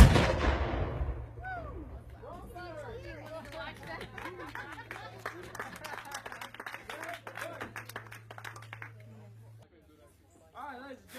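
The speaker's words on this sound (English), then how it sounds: "that was the firing of a 3-pound artillery piece" A 3-pound artillery piece fires once at a state park fort demonstration, a loud boom at the start with a long fading rumble, followed by crowd chatter and scattered applause from onlookers outdoors.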